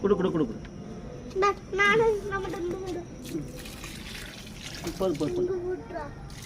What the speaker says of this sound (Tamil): இப்போ அங்கே ஊற்றி விட்ருங்க தண்ணி பாதி ஊற்றுங்க